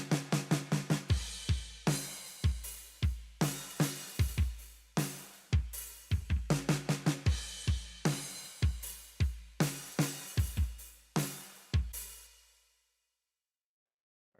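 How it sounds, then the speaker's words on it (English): Drum track from a music mix with room reverb, kick, snare, cymbals and toms: loud, sharp hits in quick bursts and steady patterns, each tail ringing into the room before a final decay to silence. "Drums sound like this."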